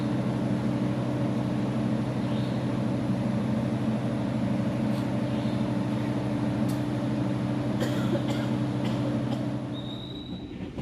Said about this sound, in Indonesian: Sudah sekitaran 6 jam perjalanan bersama kereta api Kahuripan.